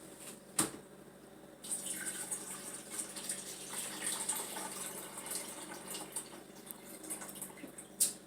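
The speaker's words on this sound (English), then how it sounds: "I'm going to go ahead and pour that right into the coffee pot" Water is poured into the reservoir of a drip coffee maker, a faint, steady trickling splash with a soft clunk at the start and end, quiet and close.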